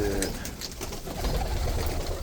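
Pigeons and doves coo in a coop, soft repeated low calls with some higher bird chirps overlapping, steady and close throughout.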